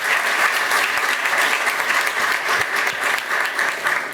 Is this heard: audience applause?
yes